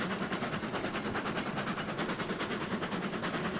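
Steam locomotive running in the video game Railroads Online: a steady, loud chuffing and rumbling drive with a fast, even rhythmic pulse that continues without a break.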